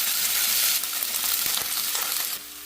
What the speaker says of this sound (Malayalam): വറ്റൽമുളക് ഒന്ന് മൂത്ത് വരുമ്പോൾ നമുക്കിതിലേക്ക് അരിഞ്ഞു വെച്ചിരിക്കുന്ന ചീര ചേർത്ത് കൊടുക്കാം.